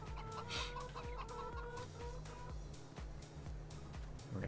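Chickens cluck in the farming video game Farming Simulator 22, their short calls sitting under a steady bed of game music with a thumping rhythmic beat, fairly quiet and continuous throughout.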